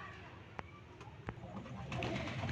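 A female breeder pigeon and others in a loft coo softly at a distance, low murmuring calls under a couple of sharp clicks and a rising rustle near the end.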